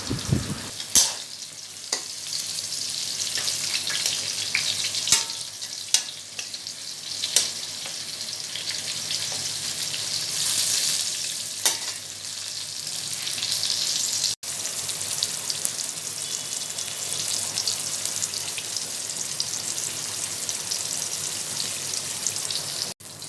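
Slices of pointed gourd frying in a pan in a Bengali home kitchen, a steady close sizzle and crackle with occasional sharp pops and clicks as pieces are turned, no talking.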